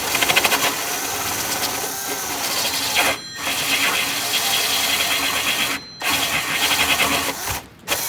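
A drill bit cuts a stepped hole through an aircraft instrument panel, a loud continuous grinding whine that briefly drops out three times as the drilling pauses.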